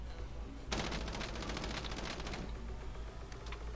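Rapid bursts of automatic gunfire in Call of Duty Warzone erupt after a quiet moment, a dense rattling volley lasting a couple of seconds, then a few scattered shots trailing off.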